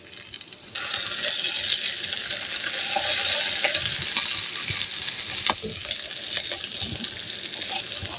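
Two eggs are dropped into a pan of potatoes frying over high heat, bringing a loud, close, continuous sizzle with crackles and occasional clinks after a brief quieter moment.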